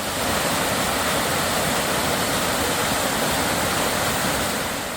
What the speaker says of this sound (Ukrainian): милуватись потоками гірської річки, слухати шум води